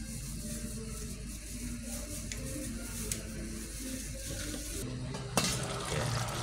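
Fried fish being stirred with fish bagoong from Pangasinan in a pan for Ilocano pakbet, with a soft continuous sizzle and light scraping and clinks of a utensil against the pan.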